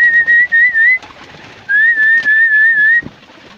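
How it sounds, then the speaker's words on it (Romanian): Pigeons in a coop give a steady, loud whistling coo in two long sustained phrases separated by a short break, heard close with no talk. "Așa, ăștia sunt porumbeii. toți porumbei mei."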